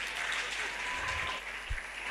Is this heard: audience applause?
yes